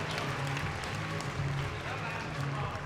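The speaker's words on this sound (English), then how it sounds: "give a big round of applause to the other 2 teams that are finishing" An audience claps steadily at a dog show arena display, a constant wash of applause from a large crowd with a voice over a loudspeaker running underneath.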